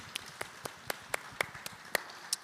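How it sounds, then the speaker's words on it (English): A single person claps slowly and steadily, about eight evenly spaced claps, fairly quiet in a conference hall with no other sound. "Let's give him applause, too."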